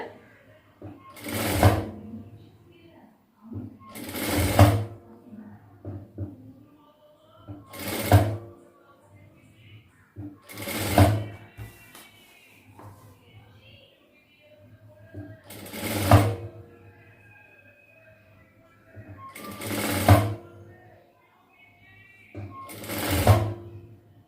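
A sewing machine stitching a chudidhar runs in seven short loud bursts separated by pauses, close up, with a person talking quietly in between.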